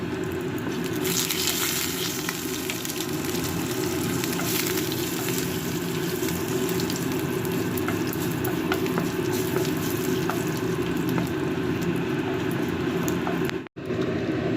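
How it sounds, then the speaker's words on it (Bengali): Bay leaf, cumin seeds and dried red chillies sizzle in hot oil as a tempering for vegetable dal, a steady loud crackling hiss that runs unbroken and close, with a brief cutoff near the end. "এখানে দিলাম তেজপাতা জিরে আর শুকনো লঙ্কা ফোড়ন ডালের জন্য"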